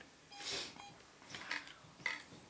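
An EMF meter chirps during a ghost hunt in a mansion bedroom, giving about three short, faint electronic beeps spaced roughly half a second apart in a quiet room.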